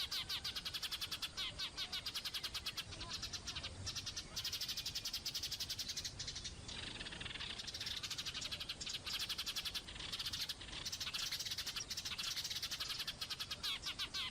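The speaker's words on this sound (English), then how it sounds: "a small but charismatic bird, the bluetit" A blue tit songbird chirping, rapid repeated high notes in quick trills continuing throughout, fairly faint with no talking.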